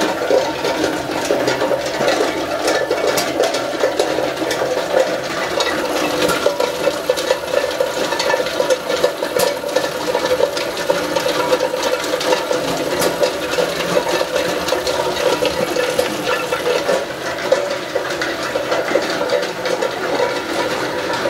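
Coconut copra size reduction machine running steadily, a continuous loud mechanical rattling and grinding hum that holds an even level from start to finish, with no talk.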